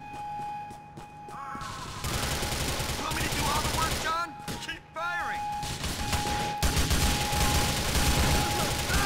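GTA The Lost and Damned gunfire crackling in dense, rapid bursts almost throughout, with brief pauses, loud and close, while a voice talks over it in Portuguese.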